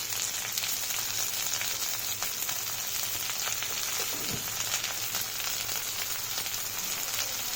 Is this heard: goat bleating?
no